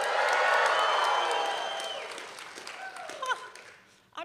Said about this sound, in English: on the count of three, I expect everybody to cheer